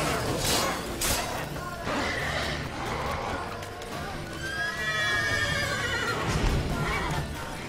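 A horse neighs and whinnies in The Witcher 3, a loud drawn-out call over steady game combat noise and hoofbeats.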